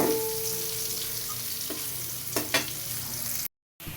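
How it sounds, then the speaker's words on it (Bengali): Soybean chunks fry in hot oil in a pan, a close, continuous sizzle broken by a few scraping stirs before a short silent gap. "খুব সুন্দর করে সয়াবিন ভাজা হয়ে গেছে।"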